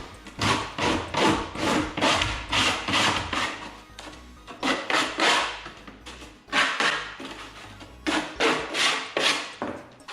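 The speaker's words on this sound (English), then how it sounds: "A little flat sanding stick." A flat sanding stick rubs back and forth over a plastic wing strut fairing for a RANS S-21, making quick rhythmic scraping strokes in short bursts separated by brief pauses, close and fairly loud.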